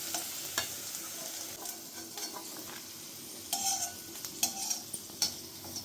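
Bitter gourd fries in oil in a pan with a steady soft sizzle, punctuated by several sharp scrapes and clinks of a utensil stirring against the metal, close up with no talking.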